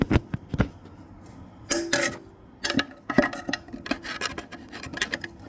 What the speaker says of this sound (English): Put the screwdriver in here and twist, and then pull up, and then scoot over.